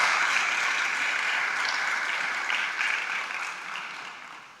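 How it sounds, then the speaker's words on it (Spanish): A congregation at an evening church gathering claps loudly in sustained applause for the Holy Spirit. The dense, even clapping fills the room and then fades gradually, with no talking over it. "Dale un fuerte aplauso al Espíritu Santo"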